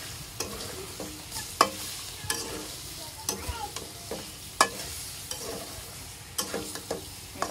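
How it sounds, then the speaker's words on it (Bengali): Peeled hog plums being stirred into fried spice paste in a village kitchen pan, with a steady sizzle under repeated sharp scraping strokes of the spoon, close and alone. "এখন এই দেখেন খোসা ছাড়ানো আমড়াগুলো ওর ভিতরে দিয়ে দেব। খুব ভালোভাবে নাড়াচাড়া করবো।"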